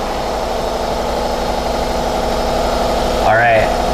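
An air compressor powered off Tesla Powerwall batteries runs at a steady, loud mechanical drone throughout, close by, with a brief voice near the end.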